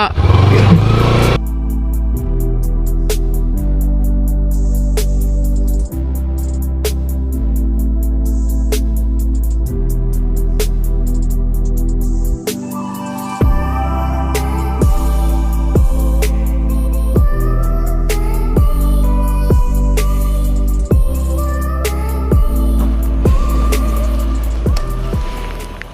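A Kawasaki Ninja 300 motorcycle engine running close by, a loud, steady tonal hum with shifts in pitch and a short drop midway, with no talk over it.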